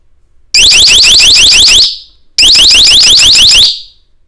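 A Nextorch ND30 tactical electronic flashbang, a distraction device, fires two harsh, very loud piercing electronic alarm bursts, each rapidly pulsing for over a second before cutting off.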